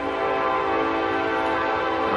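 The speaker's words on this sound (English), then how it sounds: "Seriously, train?" A train passes nearby with a steady, broadband rumble and roar that holds evenly for a couple of seconds with no talking.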